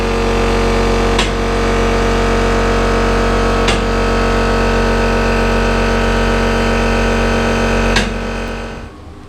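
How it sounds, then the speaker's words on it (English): The air compressor on an S.A.M. 1200 motorcycle lift runs loud and close with a steady humming drone, punctuated by three sharp clanks spaced a few seconds apart, then tapers off at the end. "And the compressor kicks in."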